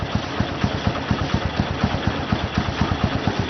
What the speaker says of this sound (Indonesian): Kemudian nyalakan engine.